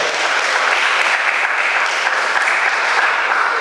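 A church congregation claps for Jesus in a dense, steady burst of applause that fills the room, loud and continuous with no voices standing out.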